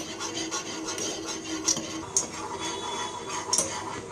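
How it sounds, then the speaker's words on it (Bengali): A whisk scrapes and rasps rhythmically against a pot on the stove as milk pudding thickens over high heat, with quick repeated strokes and occasional sharper clinks of metal, close and fairly loud. "এটা আপনাদেরকে চুলার আঁচটা বড় করে হুইস্ক দিয়ে ভালো মতো নেড়ে চেড়ে ঘন করে নিতে হবে।"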